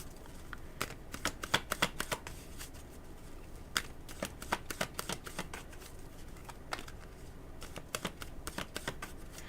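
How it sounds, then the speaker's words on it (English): Cards are shuffled in quick, crisp bursts of riffling snaps, soft and close, repeating in irregular clusters with short pauses between. "So let me shuffle."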